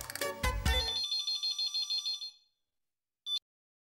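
A telephone rings with a bright electronic ringtone, a run of quick, evenly pulsed tones that stops after about two seconds, followed a moment later by one short beep in an otherwise quiet room.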